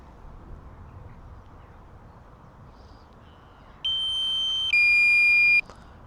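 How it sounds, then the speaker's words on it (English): A consumer drone landing in West Hendon, London sounds a high electronic warning beep, two sustained tones stepping up in pitch over faint outdoor background noise; no talk. "let's land the drone now before the horrible beeping sound starts."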